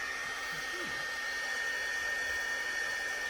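A heat gun blows a steady, even whoosh of hot air at close range while heat-setting ink on a handmade card, continuing without a break from start to finish.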